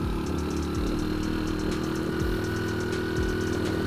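A Honda Win motorcycle climbs a steep uphill village road in rural Pekalongan. The engine drones steadily and loudly throughout, with its pitch rising and falling as the rider works through the throttle and gears.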